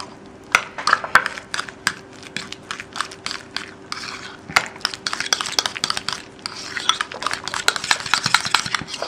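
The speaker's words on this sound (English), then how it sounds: "Just give these a good stir." Deviled egg filling of mayonnaise and hot sauce being stirred in a bowl, with a quick run of clinks, taps and scrapes from the utensil, close and fairly loud, and no talking.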